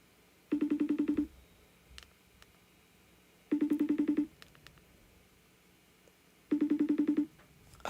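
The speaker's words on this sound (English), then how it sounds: "FaceTime Liz" A phone rings with an outgoing FaceTime video call, three identical bursts of a buzzy, warbling ringtone about three seconds apart, loud and close with quiet gaps between.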